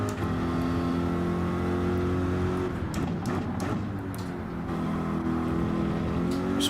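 Race car engine from the Gran Turismo video game, a GT3 car at St Croix B Reverse, droning steadily with a brief dip as it short-shifts mid-clip, then climbing back to a sustained, loud harmonic whine.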